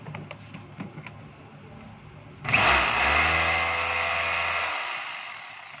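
A DeWalt D25032 rotary hammer starts up midway during a bench test after some quiet handling noise, then runs loud and steady with a continuous motor whine that slowly winds down near the end.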